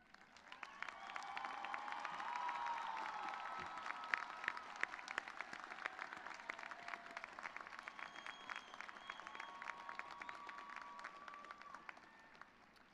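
Sustained applause from a commencement audience for business school honors graduates, a dense crowd of steady clapping swelling in the first seconds and holding for about twelve seconds before slowly easing.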